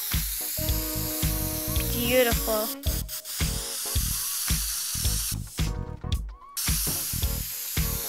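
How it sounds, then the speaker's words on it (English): A spray can sprays paint in the voxel game Teardown in repeated hissing bursts separated by short pauses. Someone speaks briefly over it, and game sounds mix in. "I like the spray can."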